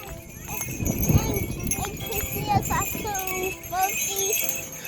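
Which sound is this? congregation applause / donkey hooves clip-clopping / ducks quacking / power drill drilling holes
donkey hooves clip-clopping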